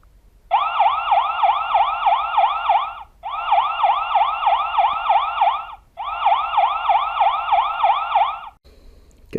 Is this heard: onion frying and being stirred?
no